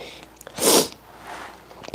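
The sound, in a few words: sniff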